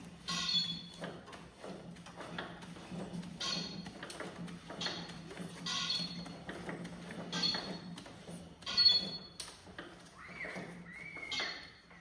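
A 15 hp Briggs and Stratton engine without its spark plug is spun over by hand, giving repeated soft compression whooshes and mechanical clicks at an uneven rhythm, close and fairly quiet.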